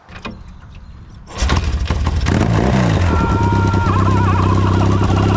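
A few kicks and mechanical clatter, then a Yamaha XS650 motorcycle engine catches with a loud roar and keeps revving unevenly at close range.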